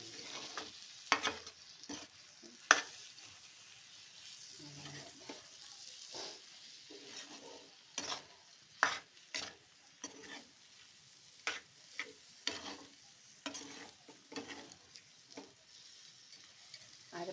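Spiced masala paste with ground cumin and pepper frying in a pan for chicken curry, a steady sizzle broken by repeated scraping stirs at an uneven rhythm, close and moderately loud with no talking.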